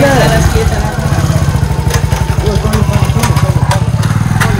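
A motorcycle ridden on a road toward Eco-Park in Bardaghat, Nepal, its engine chugging in a fast, steady, close-up pulse with faint higher clatter, while people talk over it.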